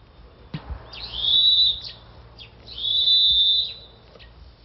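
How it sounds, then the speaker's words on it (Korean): Two long, shrill whistle blasts in a cattle shed, each a couple of seconds, with a short pause between them over faint background hum. "갑자기 축사에서 호루라기 소리가 들린다"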